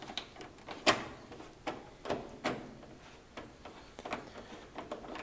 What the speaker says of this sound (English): Unscrew that screw there.